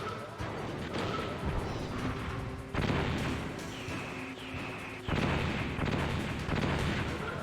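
Machine gun fire in the video game Metal Gear Solid, rapid bursts of shots and impacts arriving in several loud clusters over a rumbling background.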